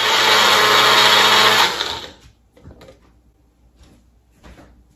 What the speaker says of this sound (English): so I have my aloe vera gel in my blender, and then you're just going to process it